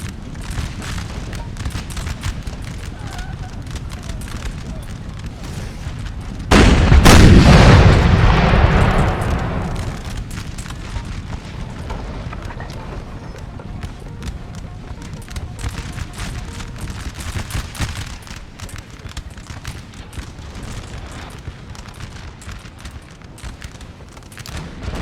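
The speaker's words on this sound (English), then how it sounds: "Artillery going off." A single heavy artillery boom from a Napoleonic-era cannon in Napoleon Total War thunders out mid-clip and rolls away slowly, set against a steady, distant crackle of battlefield musketry and faint murmuring.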